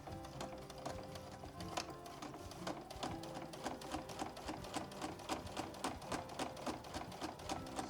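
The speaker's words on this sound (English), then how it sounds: "So this is the one line I'm going to sew across the top." Sewing machine stitching one line across the top of a fabric project bag, a rapid rhythmic mechanical clatter running steadily and close throughout, with no talking.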